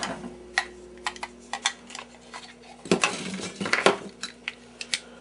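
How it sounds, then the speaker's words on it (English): A sharp utility knife works at a part from a Philco 39-30 radio restoration, producing a series of close, sharp clicks and scraping ticks in an irregular rhythm, with a denser cluster of cuts midway. "you can actually cut these open with just a sharp utility knife, like this."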